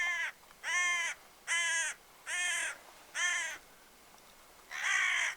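A hand-blown crow call, used while hunting hooded crows in the Scottish Highlands, gives six loud, harsh caws at fairly even intervals, each lasting about half a second, with quiet gaps between and no voices.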